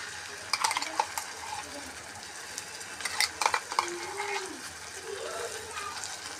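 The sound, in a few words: stirring ground masala paste into cooked tomatoes in a pan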